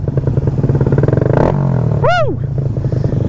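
A Grom motorcycle riding loud, its engine chugging and rumbling close by while a brief rising-and-falling whine sweeps past near the end.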